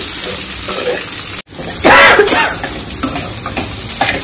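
Chopped vegetable pieces are stirred in a frying pan over a lowered flame, a loud sizzle with scraping stirs, briefly cut off then resuming with bursts of frying noise.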